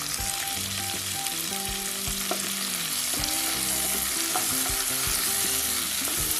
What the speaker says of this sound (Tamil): தக்காளியும் நல்லா வதங்கட்டும்.